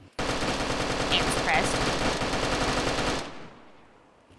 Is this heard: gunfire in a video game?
yes